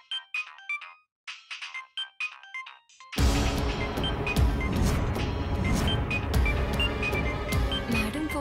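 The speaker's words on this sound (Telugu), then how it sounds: "Madam phone చేస్తున్నారేంటి?" A phone ringtone chirps in short repeated electronic bursts for about three seconds in a Telugu TV serial scene, then loud, dense dramatic music takes over.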